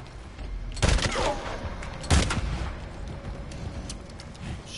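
Gunfire in the video game Days Gone: two loud, dense bursts of rapid shots about a second apart, each cracking sharply above a steady background rumble, then fading into quieter ambience.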